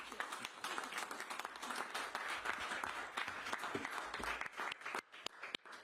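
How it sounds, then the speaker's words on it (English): Applause at a New York City mayoral press briefing on child care, a steady crowd of many hands clapping continuously at moderate distance, fading slightly near the end. "A big round of applause to Mayor Adams."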